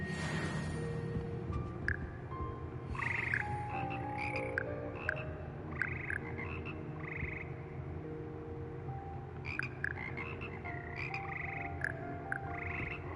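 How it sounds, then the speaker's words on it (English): Frog choir croaking in the music room of Hogwarts Legacy, a dense chorus of layered croaks and chirps that pulses steadily and rises in bursts throughout, with no voices. "Frog choir."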